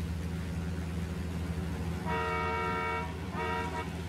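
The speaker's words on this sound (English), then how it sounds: "Is that what the train was honking because it thought we were too close?" A train horn in the video game Ghost Recon Wildlands sounds two blasts, a long one and then a shorter one, fairly loud over a steady low engine rumble and wind.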